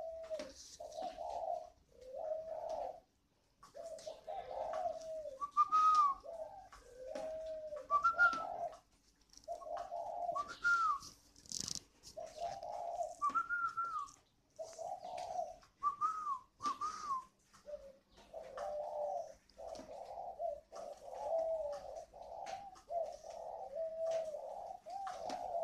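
A spotted dove kept as a decoy bird with a whistling voice coos steadily: repeated mellow two-part calls in a regular rhythm, close and clear, with no talking.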